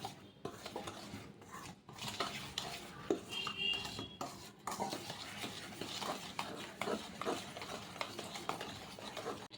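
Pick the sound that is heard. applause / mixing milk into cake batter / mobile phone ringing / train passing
mixing milk into cake batter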